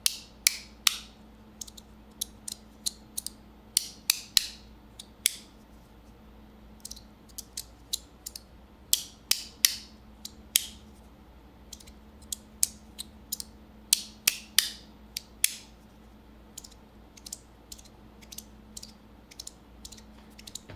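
A Pyra fidget slider is slid back and forth, giving quiet, crisp, irregular clicks and ticks in quick clusters across roughly twenty seconds, heard alone with no talking.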